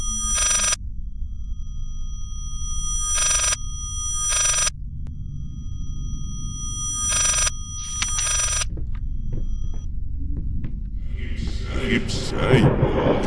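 Old telephone ringing in the horror game Layers of Fear, with bursts at about 0, 3.5, 4.5, 7.5 and 8.5 seconds over a low droning ambience, followed by a swell of noisy game sound.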